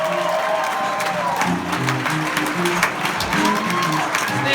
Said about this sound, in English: Start clapping right now for the very funny Joe Dosch